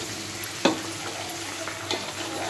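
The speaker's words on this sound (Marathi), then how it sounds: "फक्त थोडीशी फ्रायच करून घ्यायची तेलामध्ये. आता आपण हलवतो" Bitter gourd pieces frying in oil in a pan, a steady gentle sizzle broken by a sharp spatula scrape and a couple of softer stirring knocks, close by with no voices.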